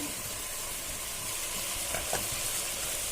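A large chicken of about 1.5 kg fries in a big pot, giving a steady, close sizzle and hiss with a few faint stirring scrapes.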